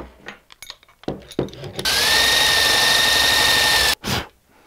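A power drill bores into dense, wild-grained wood for a bioluminescent fungus lamp, first in short stuttering bursts, then in one loud steady whining cut of about two seconds before stopping, followed by a brief final burst.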